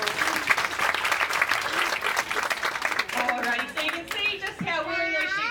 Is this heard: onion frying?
no